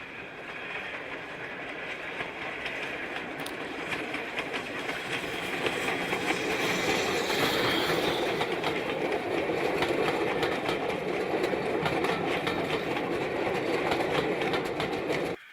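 LMS Jubilee steam locomotive 45596 Bahamas in LNWR livery climbs away from Loughborough with a short goods train, a steady rumbling roar of engine and rolling wagons that grows louder and closer throughout.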